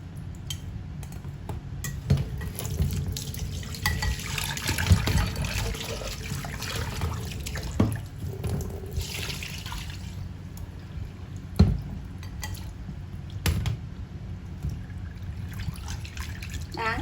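Raw liver washed under running tap water, a continuous splashing flow with irregular drips, sloshes and occasional knocks against the bowl, fairly close and steady.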